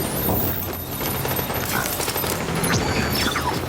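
Dense, continuous gunfire in The Division video game, with rapid overlapping shots and bursts filling the whole stretch at close range, loud and unbroken.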